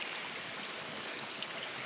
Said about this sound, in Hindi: ये देखो, ये झरना है, बहुत भयंकर झरना आता है भाई साहब ऊपर से